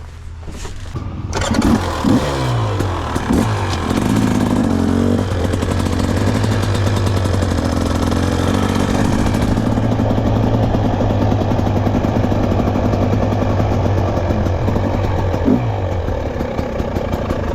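A motocross motorcycle on a dirt track starts up and runs, its engine catching, revving and then holding a loud, steady mid-pitched drone close by for most of the clip, with no talk.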